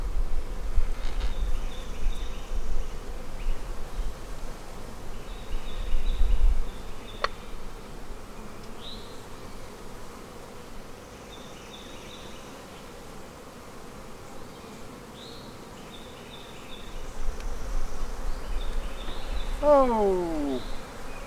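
Honey bees buzz around an open hive, a faint continuous hum close by with a few louder passes near the listener.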